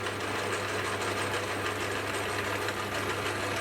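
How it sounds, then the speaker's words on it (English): A metal lathe runs steadily while a drill bores all the way through a metal part for a homemade collet chuck, giving a continuous close mechanical hum with a fine rapid chatter throughout, no talk. "the first thing I'll do is I'll drill all the way through the part"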